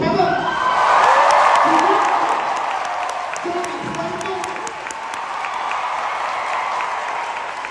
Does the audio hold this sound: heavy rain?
no